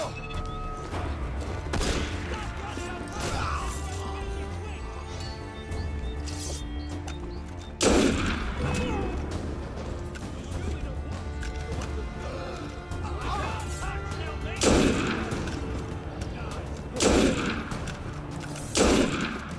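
Gunfire in the game Assassin's Creed Unity, with repeated loud sharp shots and crashing bursts cutting through a dense backdrop of music and scuffling, with bursts spaced several seconds apart over nearly twenty seconds.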